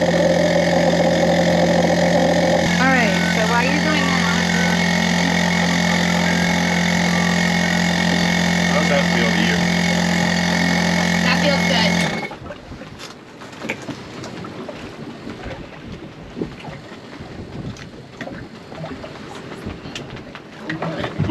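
A diving air compressor engine runs steadily with a loud, even drone and strong tonal hum while pumping up a dive setup, then cuts off abruptly to leave quieter outdoor background noise.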